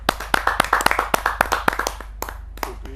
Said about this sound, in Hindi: तालियों से स्वागत करते हैं।